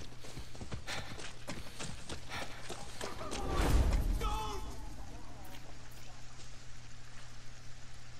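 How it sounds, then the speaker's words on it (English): Steady clip-clop of horse hooves in Far Cry 6, with a louder swell midway and faint background chatter and ambience. "Hey, horse!"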